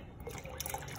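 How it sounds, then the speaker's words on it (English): Water poured into a pot of Syrian lentil soup, a soft close trickle and splash running steadily for about a second at low level. "I will tend to add another cup and a half of water"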